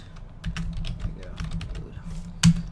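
Typing on a computer keyboard while entering a Minecraft chat command: a quiet run of quick, irregular key clicks close by, ending with one sharper keystroke.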